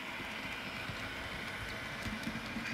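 A BNSF freight train approaches on the Interbay line in Seattle, a steady, fairly faint rumble with some rail noise that runs throughout without a break.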